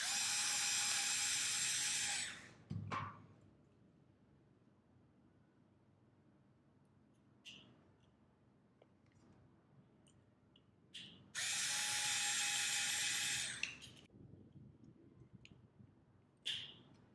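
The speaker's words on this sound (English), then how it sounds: "Then use screws to fix it on the structure" A small electric screwdriver drives screws into a Petoi Bittle robot dog's head structure, two loud sustained whirring runs separated by quiet stretches with faint clicks and handling taps.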